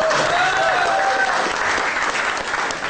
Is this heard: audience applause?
yes